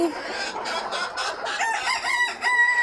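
Egyptian Fayoumi hens at a laying coop cluck busily and close together in rapid bursts, while a rooster's crow rises among them; a faint voice is audible in the background.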